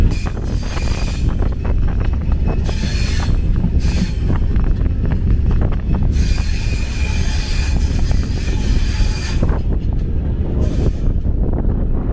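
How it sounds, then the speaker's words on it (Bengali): Madhumati Express train pulling out of Padma railway station, a steady loud rumble of wheels and carriages with rhythmic clacking, bursts of wind buffeting the microphone and occasional faint squeals, continuous throughout with no talk. "আমাদের ট্রেন ছেড়ে দিল পদ্মা রেলওয়ে স্টেশন।"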